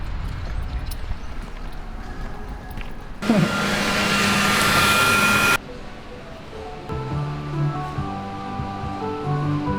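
A loud vacuum cleaner switches on abruptly, whirs at a steady high pitch for a couple of seconds, then cuts off, between quieter background sounds.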